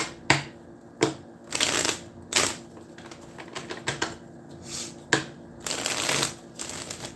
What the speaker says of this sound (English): Let me take a different deck of cards here